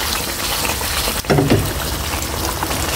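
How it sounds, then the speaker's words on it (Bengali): Chunks of a large katla fish are stir-fried in a pan, giving off a continuous loud, hissing sizzle with a brief clatter as the pieces are tossed. "মাছটা আমি একটু ঝাঁকায় কষে নিচ্ছি"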